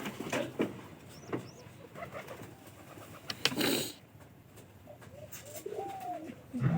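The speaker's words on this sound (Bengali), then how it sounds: "পায়রাটা কিন্তু ভালোই ডাকি," A pigeon kept at a village home coos a few times in low, soft bursts, quite near, with faint rustling and other bird chirps in the background.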